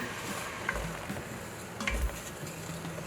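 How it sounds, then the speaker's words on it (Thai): Sugar simmering over medium heat for Thai palo braised eggs, stirred with faint scraping and a couple of soft utensil knocks against the pot over a quiet bubbling hiss. "เราต้องคนอยู่ตลอดเวลานะคะ เพราะว่าเดี๋ยวน้ำตาลเราจะไหม้นะคะ"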